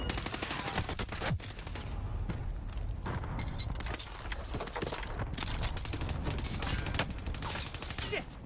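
Gunfire in Warzone, with rapid bursts of automatic shots and sharp single cracks repeating throughout, loud and close, with faint voices underneath.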